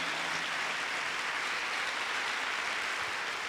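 Applause for the Lord rings out at a pastors' seminar in Guadalupe, Mexico, a dense, steady wash of clapping from a crowd that holds evenly for several seconds without pause.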